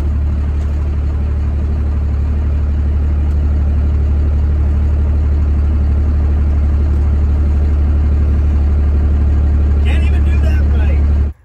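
A 1992 Dodge D350 ramp truck with hot, smelly brakes rumbles loudly and steadily as it drives off, a deep continuous engine drone that cuts off abruptly at the end.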